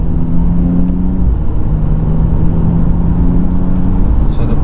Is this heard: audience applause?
no